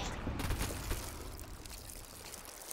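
Water splashes and pours in the Worms artillery video game: a continuous, dense watery rush that stays fairly steady and quiet throughout.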